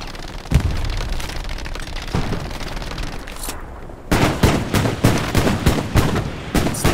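Machine gun fire in a nighttime World War II battle in the shooter game Hell Let Loose, starting as distant sporadic shots and then bursting into a rapid, steady string of loud cracking rounds in the second half.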